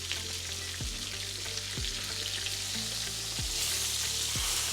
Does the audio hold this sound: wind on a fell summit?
no